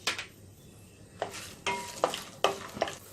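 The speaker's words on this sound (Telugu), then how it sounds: "మినప్పప్పు, ఆవాలు, జీలకర్ర, ఎండుమిరపకాయ ముక్కలను వేసుకొని వేయించుకోవాలి" Urad dal, mustard seeds, cumin and dried chilli pieces fry in hot oil for coconut rice, a crackling sizzle punctuated by several sharp stirring scrapes and spatters at an irregular rhythm, close and clear without speech.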